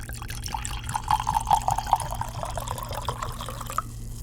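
Wine poured into a glass at a gathering, a faint trickling gurgle rising and falling for a few seconds over a low steady hum, with no talk.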